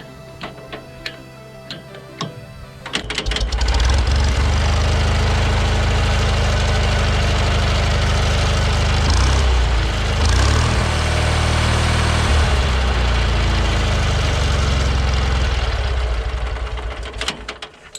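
A Wisconsin THD engine on a custom log splitter sputters to life after a few clicks and then idles loudly and steadily up close, its rough rhythmic knock continuing until it fades near the end.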